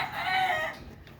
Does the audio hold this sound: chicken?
yes